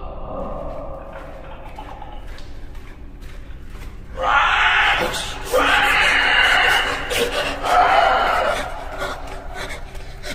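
Screaming echoes through a tunnel, opening with quieter rustling and movement before loud, harsh bursts of sound rise midway and keep going in strained waves, then fade back down.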